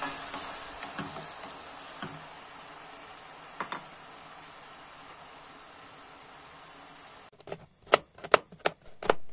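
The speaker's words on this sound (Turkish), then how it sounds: "Kavrulan soğanlarımızın içerisine domateslerimizi ekliyoruz." Tomatoes go into onions already browning in a pan, a steady soft sizzle with a few light stirs, then a burst of sharp spoon clacks and scrapes near the end.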